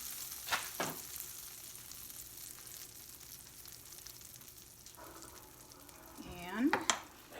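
Butter sizzles and spreads across a hot skillet while being prepared for a Mexican meatloaf batter, a soft steady frying hiss with a few scraping sounds and a brief sharper squeal near the end.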